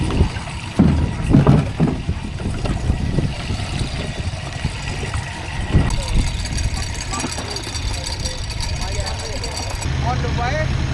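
A boat engine runs steadily throughout on a crossing around Koh Rong island, Cambodia, with voices talking over it and a bump or splash now and then.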